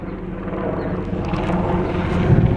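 A helicopter flies overhead outdoors, its steady, throbbing rotor drone growing slightly louder over a couple of seconds with no speech.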